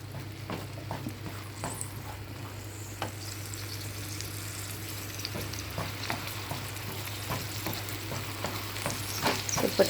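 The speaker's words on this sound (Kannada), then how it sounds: "ಅದಕ್ಕೊಂದು ಸ್ಪೂನಷ್ಟು ಆಯಿಲನ್ನು ಹಾಕ್ಕೊಂಡು ಇದನ್ನು ಸ್ವಲ್ಪ ಫ್ರೈ ಮಾಡಿ ತೆಗೆಯುವ." Ingredients for egg parota sizzle gently in a pan with a spoonful of oil. A soft, continuous frying hiss runs throughout, broken by scattered clicks and scrapes of stirring, with a low steady hum underneath.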